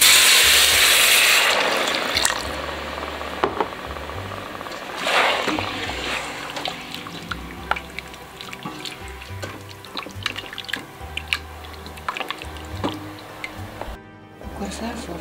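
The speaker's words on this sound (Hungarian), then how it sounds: "És felöntöm vízzel, 1 liter vízzel." A litre of water is poured into a pot of tomato soup: a loud rushing splash at first, then trickling and dripping sounds as it settles, with background music.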